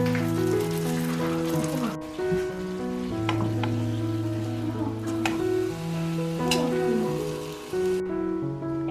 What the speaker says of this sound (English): So now on your oil on medium heat, you're just gonna plop it in there and let it cook